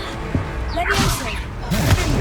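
Two quick Levioso levitation-spell whooshes in the game Hogwarts Legacy, sharp swishes about a second apart over a low rumbling background.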